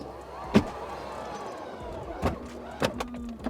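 Tesla falcon wing doors whir open with a smooth electric motor hum, punctuated by three sharp clicks and thumps, close and fairly quiet.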